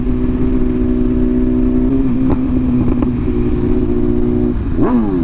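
A 2023 BMW S1000RR sport bike engine holds a loud, steady high drone up close, then briefly revs with a quick rising and falling sweep near the end.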